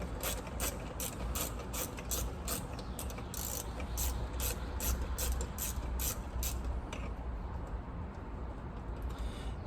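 Rapid, steady clicking of a ratchet tightening bolts on a Cadillac Escalade, close and continuous for most of the clip before trailing off near the end, with no talking.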